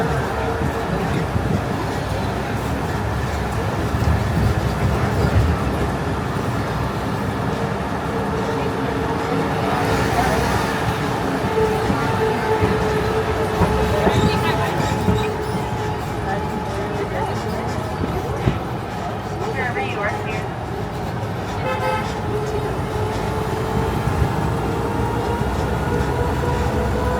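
Disneyland parking tram rolling along with a continuous motor drone and road rumble, while a recorded announcement and passengers talk over it throughout.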